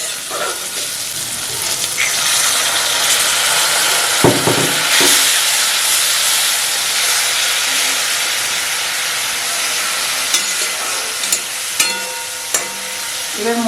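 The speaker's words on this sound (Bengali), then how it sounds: "আমি একটু জল দিয়ে দিচ্ছি।" Water added to hot frying masala in a pan sets off a loud, continuous steam hiss and sizzle that carries on steadily, with a few scraping stirs and clinks near the end.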